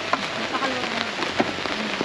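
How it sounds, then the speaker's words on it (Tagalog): Rain falls on a surface at a family campsite, a steady close patter with scattered louder drops, and faint voices in the background. "Umulan na naman."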